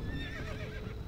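A fiery horse of the apocalypse in the video game Red Dead Redemption: Undead Nightmare lets out a loud, wavering whinny, a single brief neigh with no talking.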